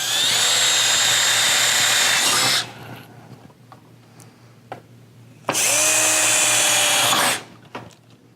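A power drill bores screw holes for power screen tracks, two loud close whining bursts of a few seconds each with a quiet gap of faint handling noises between them.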